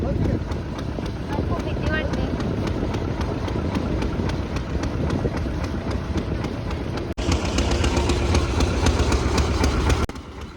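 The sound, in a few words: boat engine running at Arnala Fort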